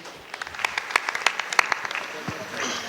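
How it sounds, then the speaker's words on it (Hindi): Audience clapping at a leadership talk, scattered individual claps swelling briefly into applause and then fading, with some voices audible. "तालियां बजाइए"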